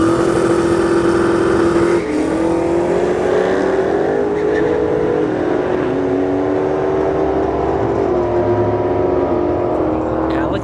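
A drag racing car launches down a dragstrip at a test-and-tune session, its engine roaring loud and sustained, pitch climbing through gear changes for about ten seconds while a voice talks over it.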